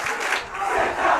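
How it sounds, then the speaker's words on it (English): An ice hockey crowd at a boys' high school quarterfinal roars loudly after a big hit, with a dense sustained wall of shouting and cheering that swells and dips briefly. "That gets a loud reaction from the crowd."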